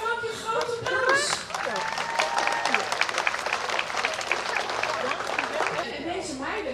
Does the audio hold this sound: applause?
yes